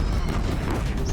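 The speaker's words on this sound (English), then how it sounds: "Deathbringers keep firing" Deathbringer machine fire in Horizon Zero Dawn gives a dense, loud, rumbling barrage of booming gunfire with no pause, heavy and continuous.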